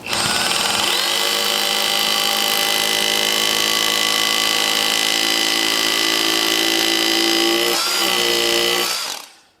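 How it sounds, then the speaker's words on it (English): A loud, high-pitched power drill drilling holes in concrete for anchors whines steadily for several seconds, dips briefly, then spins down and stops. "get those holes drilled, and get the anchor set"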